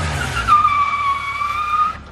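A car skids on its hand brake across a wet puddle, the tires giving a sustained high squeal that holds steady for more than a second before fading, all close and loud over a low engine rumble.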